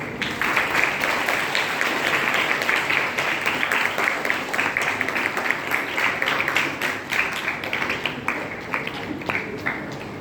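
Continuous audience clapping fills a school French Day gathering, many hands beating in a dense, steady patter that stays loud throughout and grows slightly more separated and uneven toward the close.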